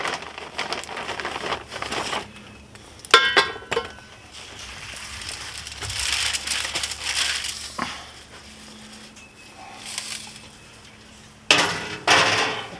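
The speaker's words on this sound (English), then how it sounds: "Gonna go ahead and add some wood chunks in. The apple wood chunks." Apple wood chunks dropped onto a grill for smoking pork loin: irregular clattering and knocking of wood against metal, with scraping and rustling between bursts, some sharp and close.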